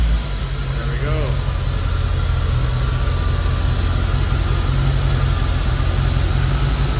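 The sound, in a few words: C4 Chevrolet Corvette engine running after starting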